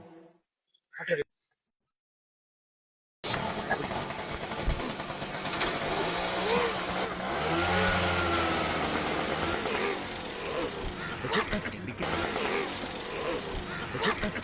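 Auto rickshaw engine starting after a short silence, then a loud, steady rattling idle that rises into revving and stays close throughout.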